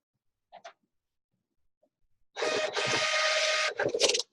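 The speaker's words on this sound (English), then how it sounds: "Print my Epson receipt printer." Epson receipt printer printing a landscape page: two faint clicks, then about two seconds of loud, buzzing print-head rattle that stutters briefly before stopping.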